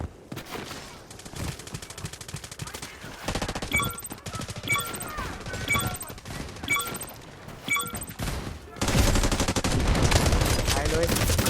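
Gunfire in the mobile shooter Delta Force Mobile: rapid automatic bursts and repeated single shots with ringing tails, loud and close, ending in a dense sustained volley.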